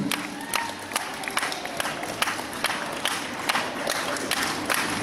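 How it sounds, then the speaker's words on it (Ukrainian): An audience at a tournament applauds a gold medal winner, with sharp distinct claps over a crowd murmur and some cheering, moderately distant and fairly soft. "Ну і особливі оплески на адресу Аліни Сопілки"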